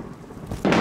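Thunder sound effect, a brief soft rumble that swells abruptly into a loud crack and roll near the end, alone without talk.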